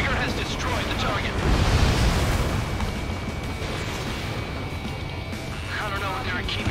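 Explosion of a destroyed target in the Ace Combat 7 flight game, a loud sustained rumbling blast that swells and fades over several seconds beneath continuous game noise and voice chatter.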